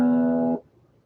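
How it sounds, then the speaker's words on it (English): A single low E tone sounds steadily for about half a second, then cuts off abruptly into near silence. "so E, low E, is supposed to sound like this."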